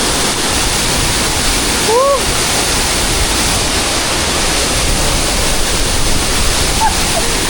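A Bali waterfall roars loud and continuous with heavy spray, a dense steady rush filling the whole clip, with a brief faint voice cutting through near the start.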